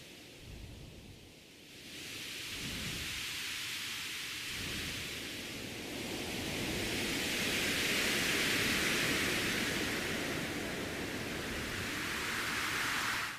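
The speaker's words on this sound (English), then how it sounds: "the minute you kind of start layering them and add some delay to it, then you actually really get these waves at sea sound." Layered synthesized drones with delay swell and recede like waves at sea, forming a dense, soft, noisy wash that builds gradually and stays steady, with no voices.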